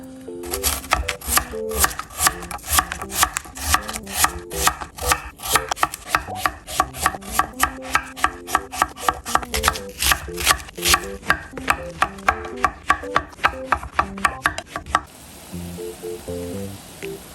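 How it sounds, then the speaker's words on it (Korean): Knife chopping meat in half on a cutting board while preparing doenjang stew: a fast, steady run of sharp, close thuds for about fifteen seconds, then a quieter stretch of faint kitchen background. "이 고기는 좀 이렇게 반씩 잘라주는 것도 좋아요."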